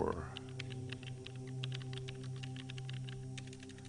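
A computer keyboard typed on steadily with fast, light key clicks close by, over a constant low electrical hum.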